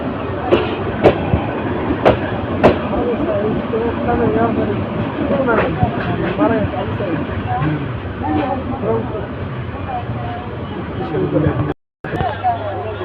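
Kishorganj Express rolling along the rails of a small-station line between Bhairab and Mymensingh, a steady rumble with a few sharp clacks early on and a brief cut near the end, with passenger chatter mixed in.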